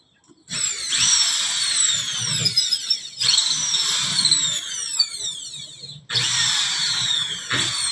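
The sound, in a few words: power drill removing ceiling screws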